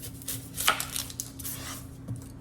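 A knife chopping the ends off yellow onions on a cutting board, a few crisp close cuts and board taps with soft rubbing in between, over a quiet background hum.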